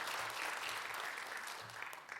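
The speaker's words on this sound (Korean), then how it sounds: "우리 목자들을 위해서 한 번 더 박수 한번 하도록 하겠습니다" A church congregation claps for its shepherd leaders during a worship service, a brief burst of steady, moderately faint applause with no speech.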